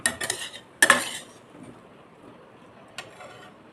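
Metal utensil clanking against a pan while potato bhaji is stirred, a few sharp scraping clinks in quick succession, then quiet and one last tap.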